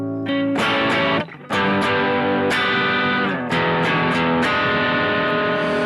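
Heavily distorted electric guitar chords through a BOSS GT-1000 distortion effect ring out loud and sustained, with a brief dip before the next strummed chord.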